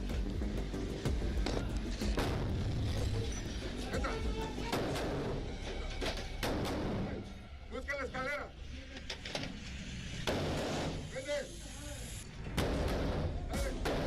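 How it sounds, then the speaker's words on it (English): A grenade blast in a video game booms amid dense in-game gunfire and crashes, loud and chaotic, with a voice over the action. "I think it's an actual nade."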